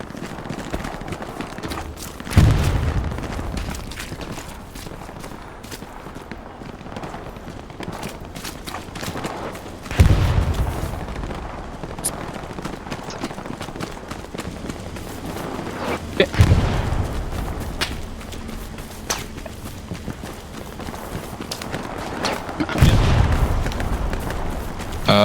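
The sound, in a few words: gunfire and explosions in video game Hell Let Loose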